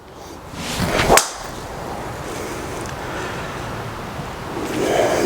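A single sharp crack of a golf driver, a Ping G400 or Callaway GBB Epic, striking the ball outdoors, followed by faint wind and ambient noise.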